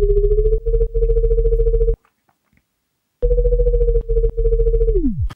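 A synth square-wave tone played clean with the distortion off sounds as two sustained buzzy notes separated by a short silence, each broken by brief dips, the second ending in a downward pitch drop.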